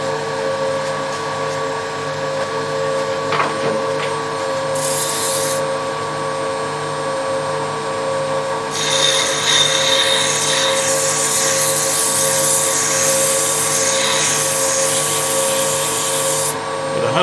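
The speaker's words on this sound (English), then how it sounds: "I'm going to shape and sand this until I'm happy with this shape" Sandpaper rubbing a spinning wooden finial on a woodturning lathe, a steady motor hum with a harsh hissy scrape that rises loud midway and continues to the end, alone without talk.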